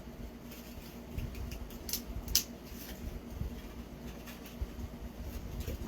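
Scissors snip close by in a quiet room: a few faint, short cuts, the sharpest around the middle, with no talking.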